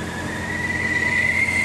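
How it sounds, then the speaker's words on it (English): Steady whining drone of a blower fanning the fire under an old-school wood-fired maple sap evaporator, a constant loud hum with a high whistling tone that holds evenly throughout. "Old school wood fired with a blower down there to get that fire nice and hot."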